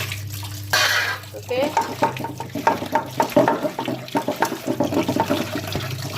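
Water poured over raw fish in a bowl, sloshing and splashing repeatedly at close range while the fish is washed clean, with a voice speaking briefly over it.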